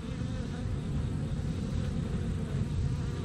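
Honey bees buzzing at a hive in early autumn, a steady, dense drone of many wings close by, continuous and even throughout with no voices.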